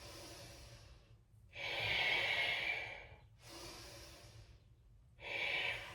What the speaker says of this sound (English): Keep going, breathing in and breathing out. Bigger breath in.